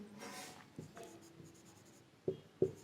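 Marker or chalk scratching across a classroom board in a few strokes, quiet and near, ending in two sharper taps.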